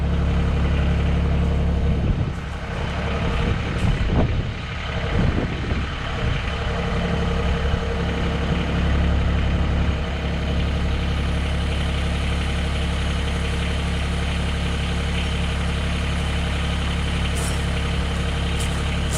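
Mahindra eMax 20S HST tractor engine idling, a loud steady diesel rumble with a constant low drone and slight fluctuations early on, running alone.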